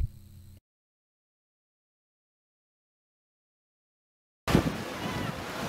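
Ocean waves in a square-wave cross-sea pattern come through as a short burst of a brief rushing surf and wind noise, following a long stretch of silence.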